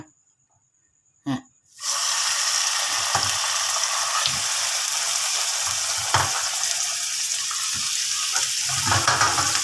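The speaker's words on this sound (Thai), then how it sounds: "ใช้กระทะ ย่าง เหมือนกัน" Fatty beef sizzling loudly in a hot frying pan indoors, a steady crackling hiss that kicks in after a brief quiet start, with occasional pops and clinks.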